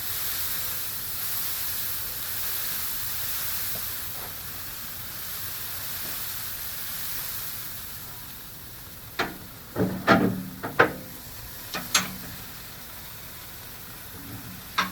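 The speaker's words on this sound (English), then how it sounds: "Make sure I got a nice wide spray band." A steady, airy hiss of liquid spraying over smoked brisket and pork shoulders runs for several seconds, followed by a few sharp clicks and knocks nearby.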